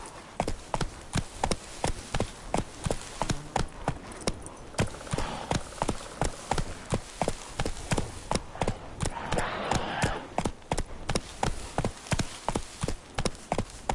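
Horse galloping in The Witcher 3: Wild Hunt, a rapid, steady run of loud hoofbeats close by, with faint background ambience and no talk.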